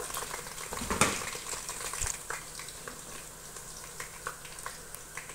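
Ground spices sizzling in a hot pan after a splash of water, a steady crackling fry with a sharper burst near the start and softer spits trailing off, no voices.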